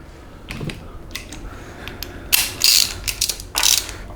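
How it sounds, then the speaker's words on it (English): A nut is threaded back on and tightened by hand on a BMW M52 engine during a stroker build, giving a run of small metallic clicks and ratcheting ticks that grow louder and denser toward the end, close up with no talk. "now I reinstall the nut"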